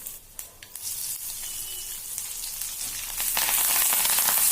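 Dried red chillies and curry leaves crackle and sizzle in hot oil close up for tempering, starting sparse with a few pops and swelling into a loud, steady hiss.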